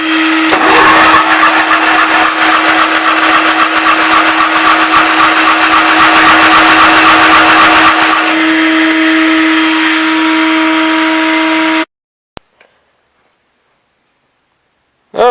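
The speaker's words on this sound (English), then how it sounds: "I have it cranking over, I got air coming out of the exhaust." A Case 448 tractor engine cranks over continuously, a loud, steady whirring drone with a constant hum for about twelve seconds before cutting off to near silence, with a couple of faint clicks after.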